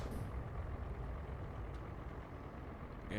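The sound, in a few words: truck pulling off the road in video game American Truck Simulator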